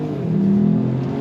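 A 2025 Ford Maverick Lobo truck accelerates on throttle, its mid-pitched engine note rising steadily and loudly over a little more than a second, with no voices present.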